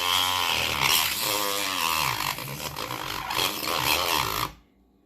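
A cordless Dremel cuts through a plastic graded sports card slab, the plastic melting as it goes, giving a loud steady high-pitched whine and grinding that runs continuously, then stops abruptly near the end.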